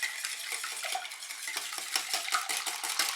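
A utensil stirs muffin batter for olive and bacon muffins in a bowl, making quick repeated scraping and clicking strokes against the bowl, close and brisk with no talking.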